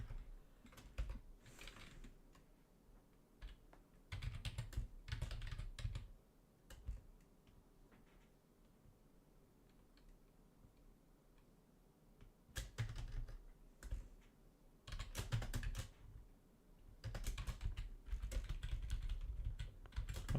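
Computer keyboard keys clatter in quick bursts of typing separated by quiet pauses, soft and close with no voices.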